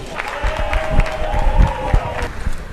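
A crowd in São Paulo applauds and cheers the first COVID vaccination in Brazil, with clapping mixed with voices and a rising tone.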